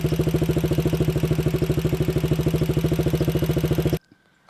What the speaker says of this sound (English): Listen to the noise coming from the engine.